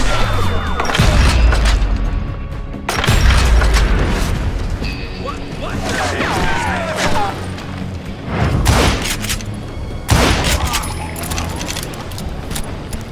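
Loud, dense gunfire in a Wild West shootout in a Western shooter game, with heavy booming shots in repeated bursts, ricochets and clatter, under intermittent shouted voices.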